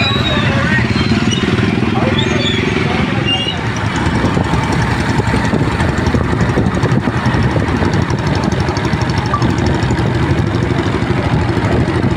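Many motorcycles ride in a farmers' rally in Punjab held over land pooling, their engines droning loud and steady throughout with a rough, continuous roar, while voices are heard among the noise.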